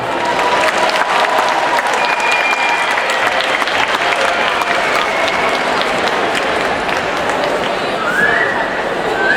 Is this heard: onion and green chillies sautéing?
no